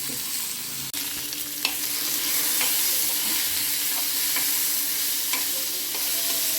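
Sesame seeds frying in a pan, stirred steadily: a dense, continuous sizzle with a sharp knock near the start and faint scrapes of the spoon recurring throughout, close and fairly loud with no talking.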